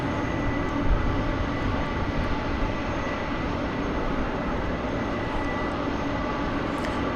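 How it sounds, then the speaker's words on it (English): A McDonnell Douglas MD airliner at DFW Airport at night gives off a steady, broadband engine roar throughout, loud and constant, with no one talking over it. "You can hear the mighty MD."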